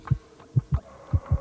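Heartbeat sound effect tracking a contestant's pulse on a Russian TV quiz show, five or six deep, close thumps in an uneven lub-dub rhythm, alone without talk.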